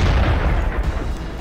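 Heavy cannon boom from a KV-1 Soviet Tier 5 heavy tank in World of Tanks, a single loud low-frequency blast with a rumbling decay that fills the short moment, no voices present.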